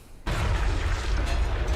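A sudden explosion sound effect from a 3D animation hits after a brief quiet moment, then a loud low rumbling boom sustains to the end, with no talk.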